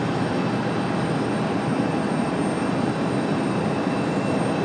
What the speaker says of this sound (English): our next arrival is going to be Republic Airways 4518 coming in from Chicago O'Hare